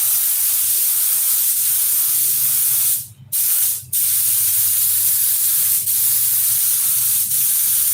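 A spray gun puts paint coats on a model aircraft around its side muffler, a steady loud hiss with two short pauses partway through. There is no talk.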